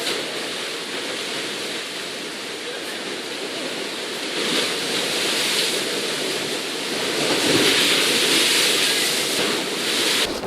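Stormy sea surf crashing against a dock on Utila, a steady loud roar of wind-driven waves that swells heavier in the second half, with no voices.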